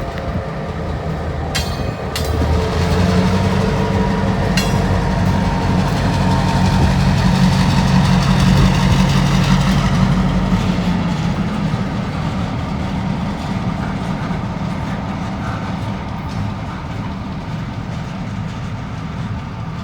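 A freight train rolls past on the Greenfield line by the ruins of the Midland train station in Ohio, a loud, steady rumble of engine and rail cars with a few sharp clanks.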